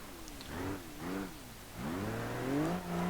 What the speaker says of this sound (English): let's see if this small little car can still drive